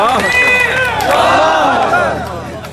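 A crowd at a political rally cheering a speaker, with loud overlapping shouts and rising voices near and full, tapering off toward the end.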